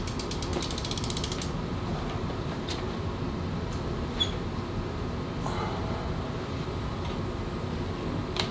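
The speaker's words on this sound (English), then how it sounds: "we're gonna loosen the bolt that's holding our controller in place" An Allen wrench works a bolt loose under the handlebars of a Super73 S2 electric bike, giving steady close ratcheting and creaking mechanical clicks over a constant low background hum.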